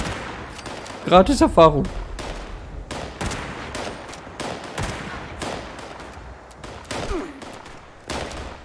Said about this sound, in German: Nicht auf mich schießen, ich habe keine Rüstung.